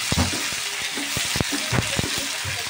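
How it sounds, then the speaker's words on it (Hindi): Onions frying in a pan for egg rice, with a loud steady sizzle broken by repeated sharp stirring knocks and scrapes of the spoon against the pan. "अब डालूंगा प्याज"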